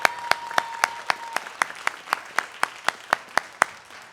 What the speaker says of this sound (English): can I get a real big round of applause for Blaine?